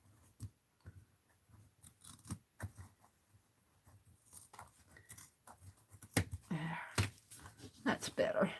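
Scissors snipping and trimming paper in a craft setting, scattered short cuts at close range, with a person talking softly and some rustling of paper toward the end.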